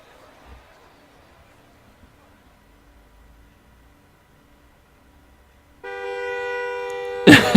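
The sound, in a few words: video game character scream like air horn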